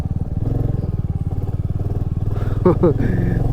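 A motorcycle climbing a snowy mountain road near Manali, its engine a steady, close, pulsing thrum throughout, with a brief burst of voice and wind near the end.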